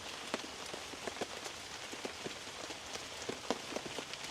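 Steady outdoor rain patters on surfaces, with a dense hiss of drops and scattered sharper plinks, close and continuous with no voices.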